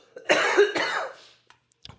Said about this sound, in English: What does the cough mean?